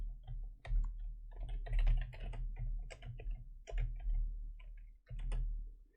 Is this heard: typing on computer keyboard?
yes